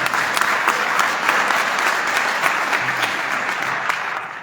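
An audience claps for a school superintendent at a high school holiday band concert in a hall, a dense steady applause held at even strength that fades slightly at the end.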